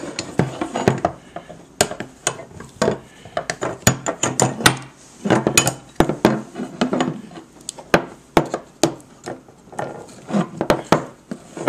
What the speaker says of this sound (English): I'm going to take the clamps off of this knife